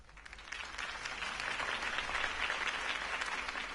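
Dense crowd applause follows a political campaign speech in a Batman video game, a steady wash of many hands clapping that builds slightly and holds without any voices.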